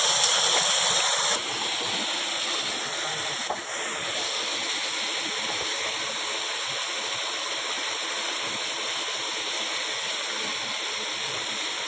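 Water pours steadily and loudly at Bukal Falls, a waterfall, with a constant broadband roar that fills the whole stretch.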